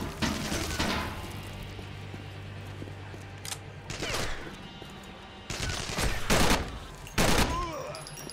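A gun in Terrorist Takedown 2 fires in several rapid bursts, loud and close, separated by short pauses with faint clanks and background game noise.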